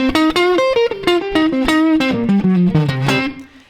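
An electric guitar played through computer software, a series of plucked notes and short melodic runs with a slightly effected, gritty tone, loud and close, each note ringing briefly before the next, fading out at the end.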